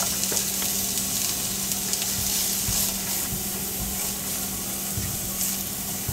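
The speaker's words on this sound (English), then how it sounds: "actually start sauteing our garlic and onions" Garlic and onions sauté in cooking oil over medium-high heat, giving a steady, close sizzle with occasional stirring clicks and no talking.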